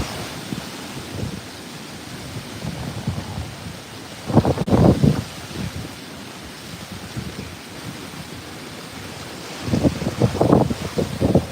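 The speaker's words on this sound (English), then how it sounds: "hoping that'll kind of block out some of this wind" Strong wind ahead of Hurricane Milton whirling around a backyard, a continuous loud roar buffeting the microphone, with two heavier gusts that swell and rumble.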